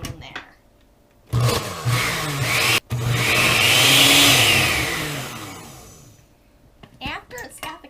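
A blender purees frozen bananas for a frozen dog treat, starting abruptly after a quiet lead-in, cutting out for an instant, then a long steady whirring grind that slowly fades, with brief clatter at the end.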